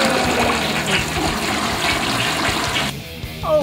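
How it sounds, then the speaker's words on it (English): A toilet flush rushes loudly and close for about three seconds, then cuts off abruptly into a quieter trickle and refilling. "a synchronized flush as a symbolic salute"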